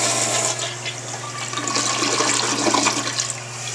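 An American Standard toilet flushes after its flush valve was replaced, a loud, close rush of water swirling and draining for several seconds, then easing toward the refill.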